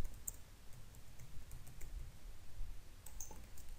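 Keys clack on a computer keyboard in quick, uneven bursts of close, crisp clicks, with short pauses between runs and a faint hiss underneath.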